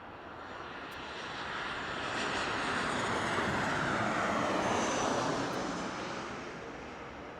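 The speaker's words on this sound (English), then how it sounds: "this is going to be an Airbus A320" Airbus A320 airliner at Las Vegas Harry Reid International Airport, a broad steady engine roar that swells to a loud peak mid-way and eases off again, heard alone as the jet passes nearby.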